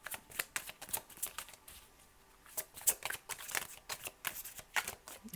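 Tarot cards being shuffled by hand, producing soft, rapid riffling and flicking bursts in an irregular rhythm, quiet and close, with no talk over them.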